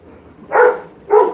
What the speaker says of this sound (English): If you're gonna bark, go outside.